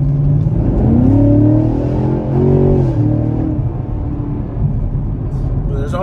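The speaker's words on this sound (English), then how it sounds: "I'm really enjoying driving this car." A 2023 Chevrolet Camaro SS at night, its engine droning steadily and swelling in pitch as the car accelerates, with cabin road noise throughout and someone talking over it.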